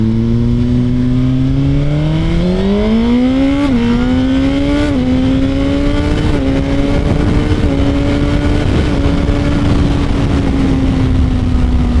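Suzuki GSX-R1000 sportbike engine pulling steadily through the gears on a ride, its rising tone climbing with each shift and settling into a strong, continuous drone beneath wind rush.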